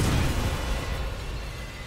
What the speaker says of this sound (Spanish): La explosión ha estado bien.